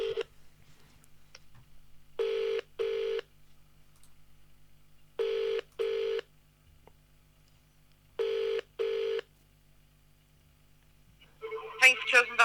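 Telephone call to a Domino's pizza line: a faint dial line with clicks, then three pairs of loud ringback tones spaced evenly apart, followed at the end by a brief burst of an answering voice.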